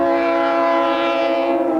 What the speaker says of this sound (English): The crew stops the train on the bridge, and yes, it's scary.